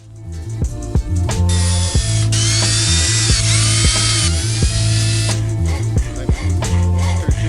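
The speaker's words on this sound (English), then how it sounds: "So now let's drill those holes where the branches will sit" A power drill whirs steadily at close range, drilling holes in a wooden frame, its pitch rising as the bit bites in, with clicking mechanical noises throughout.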